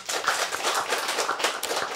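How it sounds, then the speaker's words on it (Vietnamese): Congregation applause at a Catholic Mass on a Monday morning in November, a steady patter of hand claps filling the room for a couple of seconds, moderately loud and even, with no speech over it. "Hân hoan chào nhau một tràng pháo tay nồng nhiệt."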